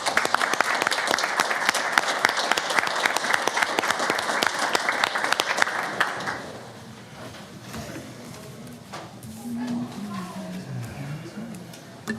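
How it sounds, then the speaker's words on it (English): Loud, dense applause fills a city council meeting room for about six seconds, then fades into quieter room noise with scattered voices and murmurs. "We'll give these guys one more round of applause."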